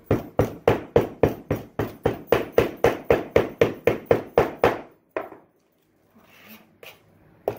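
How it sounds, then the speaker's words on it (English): A hammer packs sand into a ring casting flask with about sixteen quick, evenly spaced thuds over five seconds, then a final blow followed by quieter scraping and handling noises. "we're packing it from behind so that we're protecting that lip from the hammer"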